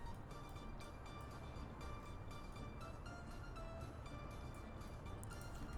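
A train rolling along rails in the Workers & Resources: Soviet Republic video game, a steady continuous rumble with rhythmic clacking, moderately loud and heard alone.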